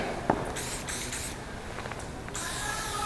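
A Rust-Oleum spray paint can hisses steadily while painting a graffiti tag, with a few short bursts and breaks between longer sprays, close and fairly loud.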